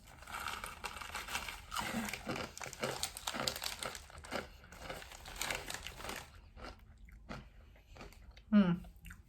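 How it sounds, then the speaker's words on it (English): Loud, close crunching and crinkling of chewing crunchy Mexican Cheetos-style chips, with bursts of bites and a bag rustling, ending in a sharper crunch. "They're crunchy."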